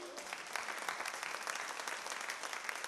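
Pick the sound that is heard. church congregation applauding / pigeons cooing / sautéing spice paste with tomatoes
church congregation applauding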